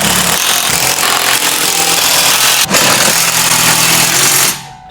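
A loud, steady power tool whine tightening bolts during trailer assembly runs continuously for several seconds, with one brief dip midway, then cuts off abruptly at the end.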